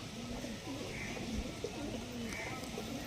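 A Tiger National pigeon coos softly while being held, a few low, repeated coos rising over a steady hum of background noise.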